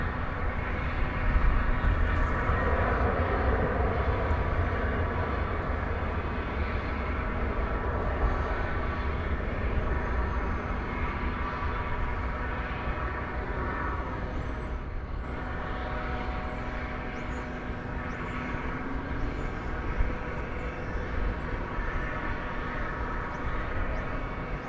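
A departing airplane at DFW Airport roars in a broad, steady, loud rumble that holds for the whole stretch without fading, heard from a distance and with no voices over it.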